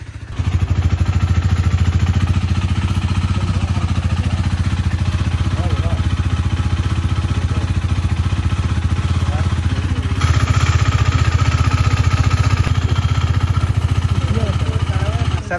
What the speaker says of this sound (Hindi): तो भाई आवाज़ चेक करो, काफ़ी बढ़िया आया है आवाज़।